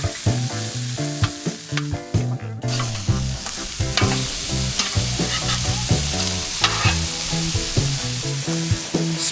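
Burger patties, pineapple slices and beets sizzle on a grill while being flipped, a steady loud frying hiss broken by scraping turns and clinks, close by with no talking.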